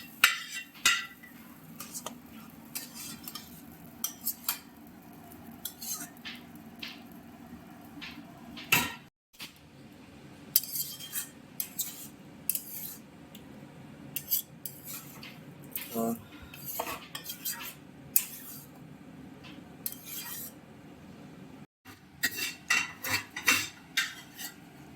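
A utensil stirs egg tadka in a pan, with irregular metallic scrapes and clinks against cookware, some sharp knocks, and quiet gaps between bursts of stirring.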